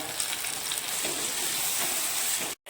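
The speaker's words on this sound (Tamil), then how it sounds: "தக்காளி நல்லா வதங்கிருச்சு" Onions and tomatoes with garlic sautéing in a pan for brinjal kulambu give a steady, close, even sizzle and crackle, without talk, until a brief cut just before the end.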